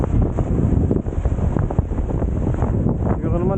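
Strong seaside wind buffets the microphone in a steady roar during the northeast monsoon, continuous rumbling gusts with no pauses, loud and close, with no talking.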